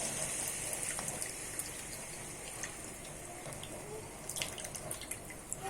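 Tamarind water pouring into a simmering South Indian gravy in a home kitchen, a steady soft splashing stream with faint drips, close and continuous, with no talking.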